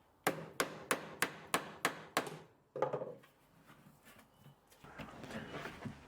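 Seven sharp, evenly spaced hammer blows drive steel bucket handle hooks in against a piece of scrap timber on a workbench, loud and close, followed by quieter knocks and handling noise.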